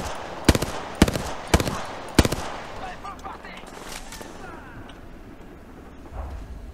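Gunfire in Apex Legends rings out from somewhere above: four sharp, loud shots spaced about half a second apart, then a quieter stretch of game ambience with faint distant activity.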